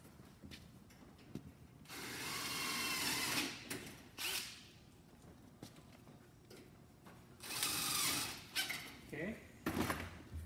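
A power drill drives screws into metal stud framing, whirring in several bursts of a second or two, close by, with a person talking between the bursts.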